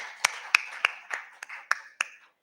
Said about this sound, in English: this calls for another bigger round of applause